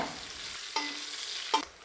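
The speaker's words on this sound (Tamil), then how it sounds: "இப்போ வெங்காயத்தை சேர்த்து நல்லா லேசாக செவந்து வர அளவுக்கு வதக்கி விட்டுக்கலாங்க." Faint, close sizzling of onions sautéing in a pan, broken by two brief scraping stirs.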